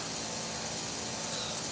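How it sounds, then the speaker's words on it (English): Steady, dense hiss of a cleaning spray being sprayed continuously at close range, with no pauses and no voices. "Spray it down some more."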